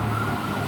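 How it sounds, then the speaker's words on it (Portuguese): Ambulance siren sounding steadily as the vehicle passes along a road, a continuous wailing tone mixed with traffic noise, fairly loud and alone without talk. "E a ambulância passando."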